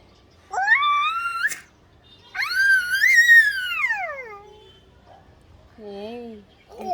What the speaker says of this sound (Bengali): ওই যে বিড়াল আসছে